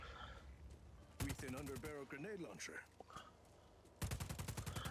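Rapid gunfire in a video game bursts in and out around a grenade launcher, with harsh crackling volleys at the start and end and voices and effects between them.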